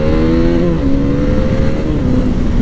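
A KTM Duke 390 motorcycle engine drones steadily and loud throughout, its pitch climbing and shifting as the bike accelerates on a test ride, with no voices.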